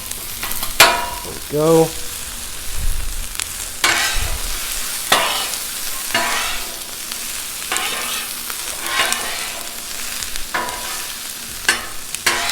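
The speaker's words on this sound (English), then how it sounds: "Give them onions a little chop." Chopped onions fry on a Blackstone griddle, a close, crackling sizzle broken by repeated scraping and chopping strokes of a metal spatula, with a brief spoken remark early on.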